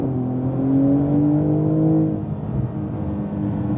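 A 2018 Porsche 911 Turbo S accelerates out of a corner on a track, its engine note rising steadily in pitch with a strong whirring drone, then easing off into a lower rumble.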